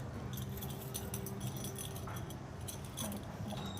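A woman's keys jangle at a home gate, making faint metallic clinks and rattles scattered over a steady low background hum.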